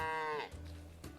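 A cow lets out a short, strained bleating call that slides down in pitch, followed by a brief rustle, close and fairly quiet.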